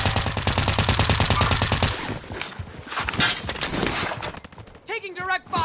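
Rapid automatic gunfire in a multiplayer shooter, a fast even burst of shots followed by scattered impacts and crunching hits, with a voice speaking near the end.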